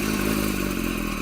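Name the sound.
clutch chatter from Porsche 911 S/T single mass flywheel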